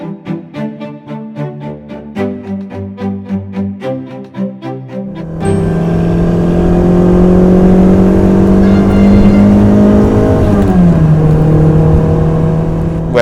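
Ferrari 308 GTB on the streets of Bangkok, its engine loud and close, rising into a sustained steady drone after a stretch of rhythmic tones, then dipping in pitch near the end.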